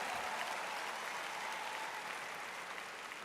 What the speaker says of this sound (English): Let's give your families a big round of applause